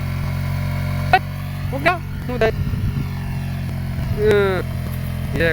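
A motorcycle engine hums at a low, steady idle nearby, while voices call out over it in short bursts.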